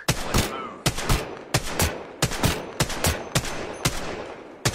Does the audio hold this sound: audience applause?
no